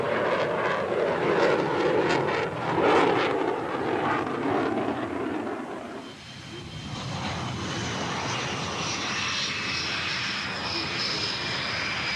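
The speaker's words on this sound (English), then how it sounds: "This is ex-MiG pilot Anatoly Kvochur, now flying Su-27s, making a low-speed pass at a very high angle of attack." A Sukhoi Su-27 fighter jet makes a slow, high angle-of-attack pass at an air show, its engine roaring loudly then easing into a steady distant rumble, with faint talk underneath.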